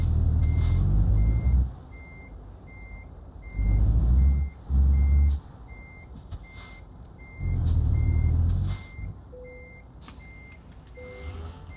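A truck in Euro Truck Simulator 2 backs up to hook a trailer, its reversing alarm beeping steadily at regular intervals over the idling engine, with several louder bursts of engine and air-brake noise.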